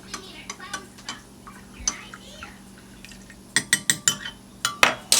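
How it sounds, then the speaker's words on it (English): A spoon clinks and scrapes against a pot while potato soup ingredients are stirred, quiet at first and then giving a run of sharp, close knocks near the end. "I'm going to stir it up."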